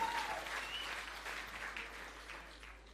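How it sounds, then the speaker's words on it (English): Sustained applause from an audience at a Jamaican Ministry of Labour awards ceremony, a steady wash of clapping that holds evenly for about three seconds with no voices over it. "Let me clap harder, clap harder."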